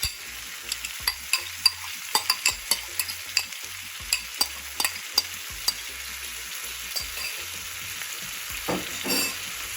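Finely chopped cranberries fry and sizzle in a pan while a utensil stirs them, with repeated scraping knocks over a steady frying hiss, close and fairly quiet.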